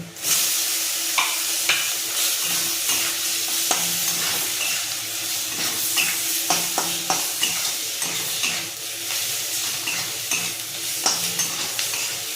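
Green chillies and chopped tomato frying in a pan, a steady loud sizzle and hiss with regular scraping strokes of a spatula stirring through the mixture, close by and uninterrupted.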